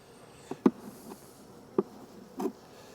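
Honey bees around an opened, neglected hive at the end of the nectar flow give a few short, close buzzing passes over a quiet background, with no talk.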